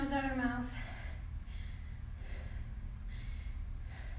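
Rhythmic breathing during a HIIT workout, in through the nose and out through the mouth, soft close breaths repeating about once a second after a brief voiced gasp.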